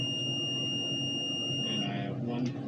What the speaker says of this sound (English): If it was, it would get a beep signal